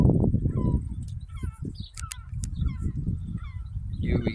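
A seagull and a shag squabble over a gutted kahawai fish, trading loud, harsh honking squawks and cries close by in a scrappy back-and-forth.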